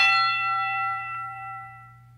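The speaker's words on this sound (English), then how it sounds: "Boxing bell?" A single bell stroke for a boxing ring, its bright metallic tone ringing out alone and slowly decaying over about two seconds.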